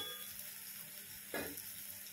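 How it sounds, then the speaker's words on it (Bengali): Spice paste of Kashmiri red chilli powder and green chilli paste sizzles steadily in oil in a pan for pahari dal, with a brief louder hiss and stir midway; fairly faint and with no talk. "এবার একটু জল দিয়ে মশলাটা ভালো করে ভেজে নেব।"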